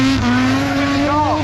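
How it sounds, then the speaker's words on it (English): A drift car at an Irish drifting festival revs hard, its loud sustained engine note rising and falling with a squeal of tires, steady and close throughout. "Dwayne McKeever absolutely ripping as he fires that car"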